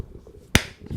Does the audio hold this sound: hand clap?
yes